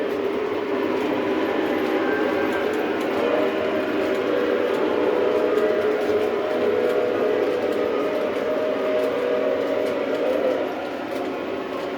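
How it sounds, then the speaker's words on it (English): An S2 model train locomotive pulling Halloween cars around a track, a continuous rumbling whir with faint rhythmic clicking, steady and fairly loud throughout before easing slightly at the end. "S2 chugging along."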